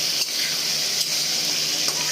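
Vegetables for dal fry in hot oil with a steady, close sizzle, and a few soft stirring scrapes punctuate the hiss.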